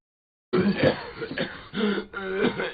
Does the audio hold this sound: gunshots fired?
no